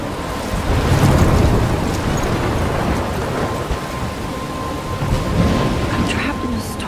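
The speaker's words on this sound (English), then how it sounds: "I'm trapped in a storm?" Thunderstorm in the video game Life is Strange, with heavy rain pouring steadily and deep rolling thunder swelling loudly around the first second and again near the end, no voices over it.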